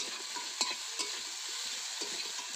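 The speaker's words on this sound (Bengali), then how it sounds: "এবার মাছটা একটু এদিক ওদিক নাড়িয়ে এর ভেতরে জল দিয়ে দেবো।" Spatula stirring fried fish through spice masala in a pan, a steady low sizzle with a few soft scraping knocks, close and alone.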